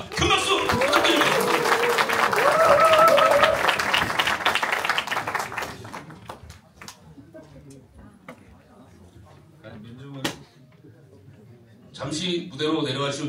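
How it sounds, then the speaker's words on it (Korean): Crowd applause at a union staff retreat swells loudly for the first several seconds, then fades into scattered claps and murmuring, with a brief burst near the end. "큰 박수 부탁드립니다."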